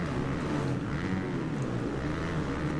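Motocross bike engines roar in the MXGP 2020 racing game, a dense continuous mechanical drone with steady low rumble and no voices.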